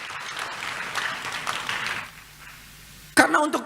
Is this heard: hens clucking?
no